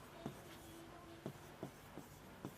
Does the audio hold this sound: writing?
yes